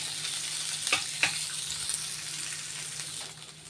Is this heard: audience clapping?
no